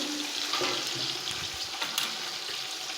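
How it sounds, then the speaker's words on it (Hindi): Water pours steadily into a pot of fried chicken for pulao, with a rushing, splashing sound, continuous for a few seconds without speech. "अब हम इसमें पानी डाल देंगे।"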